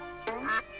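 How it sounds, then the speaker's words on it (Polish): A duck gives a short, nasal quack, a single brief call heard up close in a children's animal sound sequence, with no speech over it. "kaczka"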